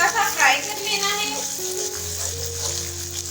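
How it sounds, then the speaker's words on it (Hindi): Chopped green chillies fry briefly in ginger-garlic paste, a close crackling sizzle with some stirring, while a voice speaks briefly over it. "इसको भी आपने 10 सेकंड के लिए हल्का सा फ्राई कर लेना है।"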